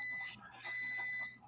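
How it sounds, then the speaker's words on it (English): A coffee pot alarm beeping, a high steady electronic tone with faint background chatter, repeating in two short bursts within a second and a half. "we all want to hear your coffee pot alarm"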